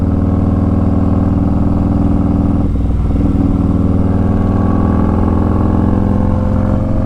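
A Harley-Davidson Street Glide Special FLHXS motorcycle accelerates hard, its V-twin engine roaring loud and close throughout with a steady, throbbing pulse and a brief dip around the gear change before the pull resumes.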